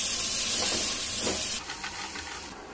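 Fenugreek leaves sizzle in a frying pan with a steady hiss that softens slightly partway through, close and continuous with no talking.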